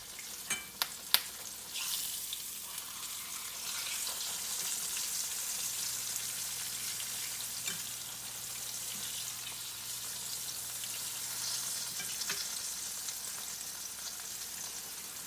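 Pork chops frying in a pan to a light golden brown give a steady, dense sizzle that lasts throughout, with a few sharp clicks near the start.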